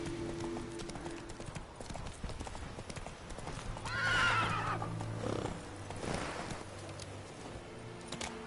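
In a video game, the horse Roach gallops with steady clip-clop hoofbeats and lets out a loud whinny midway, with soft speech and game sounds underneath.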